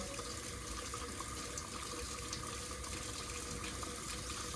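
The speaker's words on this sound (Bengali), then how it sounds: "এবারে জলটা দিয়ে দেবো" Water poured steadily into meat cooking in a clay pot, a continuous gushing splash that stays even and close for several seconds.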